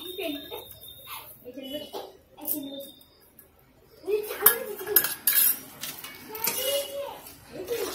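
A utensil scrapes and clinks against a pan while melting sugar is stirred for a caramel para sandesh, loud metallic strokes in irregular bursts, with speech and children's voices in the background earlier.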